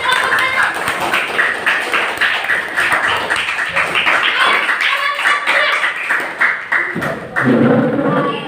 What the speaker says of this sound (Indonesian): Silakan berikan aplaus buat kelompok